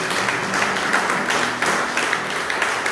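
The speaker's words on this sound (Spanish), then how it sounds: "Fuerte aplauso para la ofrenda de este día." A congregation at Mass gives a strong round of applause for the offering, dense steady clapping from many hands filling the space.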